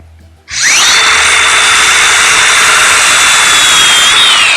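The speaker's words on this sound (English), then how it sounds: "we've got a chainsaw chain inside this grinder, and that's going to allow me to eat away a lot of material at one time" An angle grinder fitted with a chainsaw chain spins up sharply and then carves into a timber corner post for a grist mill with a loud, steady high whine and rasping cut, close and continuous.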